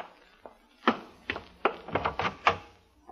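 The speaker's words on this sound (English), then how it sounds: "Open the door and I'll be right in." A door being opened in an old radio show, a short series of sharp knocks, clunks and rattles at close range, with no talking.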